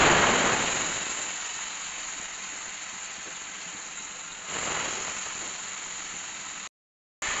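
Potatoes fry in hot oil in a wok over a medium gas flame while noodles are being cooked, giving a steady, close sizzling hiss that cuts out briefly near the end.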